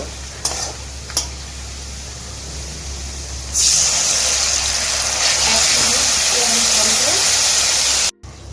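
Fried onion being added to a hot pan for prawn posto, bringing a loud close burst of sizzling and frying that holds steady for several seconds after a few light clinks.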